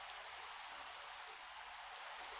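Minecraft rain falls as a soft, even, faint hiss of steady drops, no voices over it.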